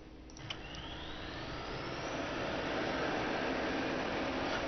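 Falcon BMS F-16 jet engine starter spooling up, a steady broadband whine and roar that swells gradually in loudness with a rising tone, no talking.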